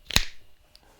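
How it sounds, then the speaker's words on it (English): A single sharp clap near 0.15 s, loud and close, sounding like two people clapping together in unison, followed by a faint second tick and quiet room tone. "if you and I clap together maybe"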